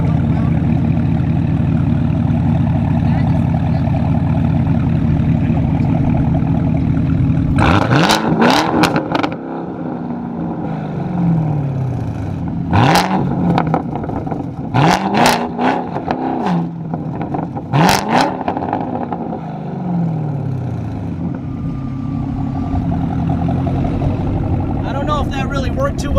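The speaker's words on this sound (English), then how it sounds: "let's see if I can get this to rev a little right now" A sports car engine idles, then fires off a series of sharp, loud throttle blips with rising and falling revs, several quick bursts close by, with people talking at times between them.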